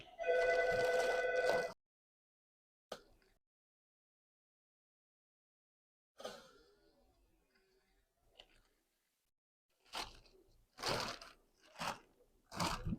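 A telephone rings in a room during a fish unboxing, its loud electronic trill lasting under two seconds before going silent, followed later by scattered soft crinkles, clicks and bursts of handling noise.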